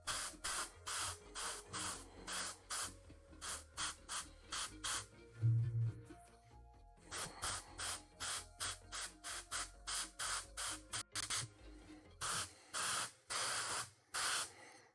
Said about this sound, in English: It flows really nicely through the airbrush